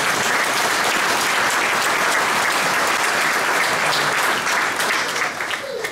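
A church congregation breaks into dense, sustained applause, loud and steady throughout, easing off slightly near the end.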